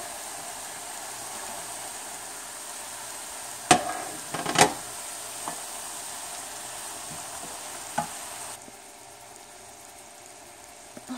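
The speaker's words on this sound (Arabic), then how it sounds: "هنزل بالكرات الاخضر بتاعي على المشروم" Sliced green leek hitting a pan of frying mushrooms for a mushroom pizza topping, giving a steady soft sizzle with a few sharp clatters and stirring knocks midway before the frying quiets toward the end.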